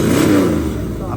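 A drag race car's engine, just fired up after a hard start, running loud and close for a brief moment with a steady throaty rumble, voices mixed in.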